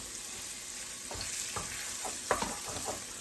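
Sausage browns in a pan with a steady, soft sizzle, and a few light scrapes and stirs rise above it.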